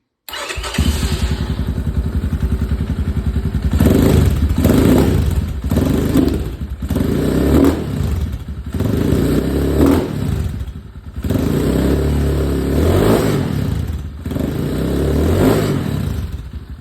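An Xpro Titan 250 motorcycle fitted with a Nibbi carburetor starts from cold and settles into a loud, close idle, with repeated blips of revving and a few clunks over the steady engine drone.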